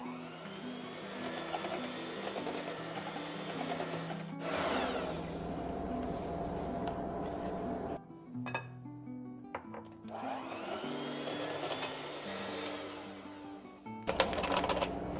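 Electric mixer beating egg yolks on low speed for shrimp patties, a steady whirring hum that cuts out and restarts several times with brief clatters between runs.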